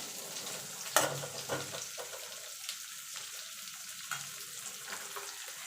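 Chopped onion frying lightly in a pan, a steady soft sizzle with a few sharp clinks and scrapes of stirring, close and fairly quiet with no talk.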